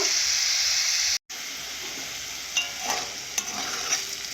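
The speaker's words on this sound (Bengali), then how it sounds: "এভাবে ভালো করে ভেজে নেব" Carrots, beans and other vegetables for fried rice stir-frying in a pan with chilli powder, a steady close sizzle with a few scraping stirs near the end, briefly cut out for a moment.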